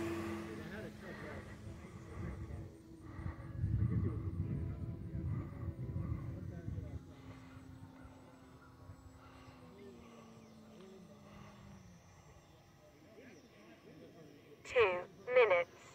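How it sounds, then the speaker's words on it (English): A Carbon Cub S+ radio-controlled airplane on 4S battery power making a full-throttle pass at an RC airfield, its steady electric motor drone rising and then fading, with a few short voices near the end. "Do a full throttle pass."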